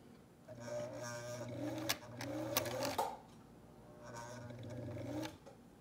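A vintage Singer 457 sewing machine, sold for repair or parts, stitches in two short motor runs with a steady hum and mechanical whir, a few sharp clicks between them.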